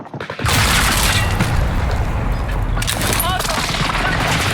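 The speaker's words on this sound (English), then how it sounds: "Enemy precision airstrike." Loud, dense barrage of overlapping explosions from an enemy precision airstrike in the Warzone video game, booming continuously after a brief quieter lead-in.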